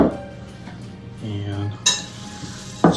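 Dry chow mein noodles being stirred into a pot of melted candy mixture for Christmas haystacks, giving a steady scraping stir with a few sharp clinks of a utensil against the pan; no talking.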